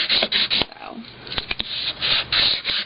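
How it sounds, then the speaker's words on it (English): Embossed cardstock being burnished by hand to melt adhesive onto a card, heard as close, repeated rubbing and rasping strokes in bursts with short pauses between them. "So I guess this is called burnishing"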